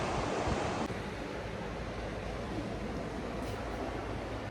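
Ocean surf at Myrtle Beach, South Carolina, a steady broadband wash of breaking waves that swells and recedes with no voices, heard continuously and fairly close.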